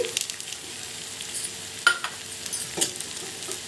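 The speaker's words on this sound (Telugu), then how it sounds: "ఒక రెండు నిమిషాల పాటు బాగా ఫ్రై అవ్వనివ్వండి" Okra curry frying in oil gives a soft, steady sizzle close by, broken by a few sharp scrapes and taps as a spoon stirs it in the pan.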